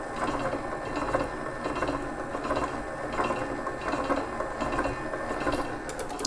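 A 7-liter stand mixer beats cake batter with flour in its bowl, a steady whirring and clattering of the beater against the bowl running evenly throughout, with no speech.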